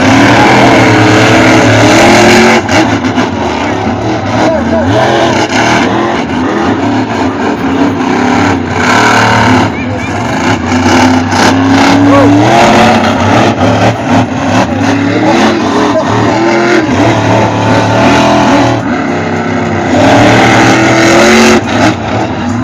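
Monster trucks roar and rev at a monster truck show in Granby, with loud sustained engine noise that rises and falls as they race, close and overwhelming throughout.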